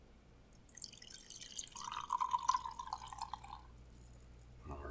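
Sawanoi Junmai Ginjo sake being poured into a glass, a quiet close trickle with rising glugging tones that stops after a couple of seconds, in a near-silent room.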